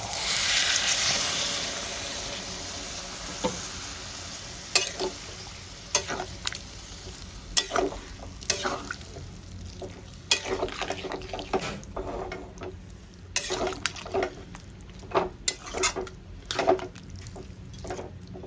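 Spice masala sizzles in a pan as water goes in, a loud hissing burst that settles into frying with repeated sharp stirring taps and scrapes.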